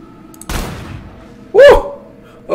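Gunfire in the indie shooter Ivan vs Nazi Zombies: three loud, booming shots spaced about a second apart, each a sharp blast with a short decaying tail, over a quiet game background.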